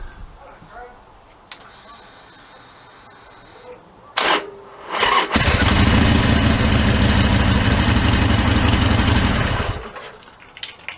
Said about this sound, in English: So I'll unplug it and then we'll give the bike a start